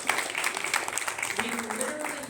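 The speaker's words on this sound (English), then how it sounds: "So just a round of applause for that." Audience at a training event applauding, a brief burst of scattered clapping from a modest crowd, fairly soft and fading quickly.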